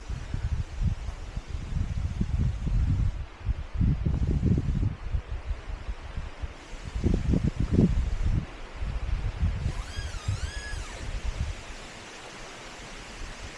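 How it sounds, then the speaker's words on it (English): Windy forest trail where tree trunks rub together, producing creaking, squealing groans that rise and fall over a constant rush of wind through the leaves, with footsteps and rustling nearby. "It's the trees rubbing together."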